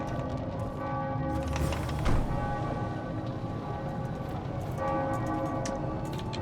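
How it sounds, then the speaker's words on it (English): Bells ring in the video game The Witcher 2: Assassins of Kings. The steady layered tolling holds sustained tones throughout, with one brief louder swell near the middle and no voices. "And the bells are ringing."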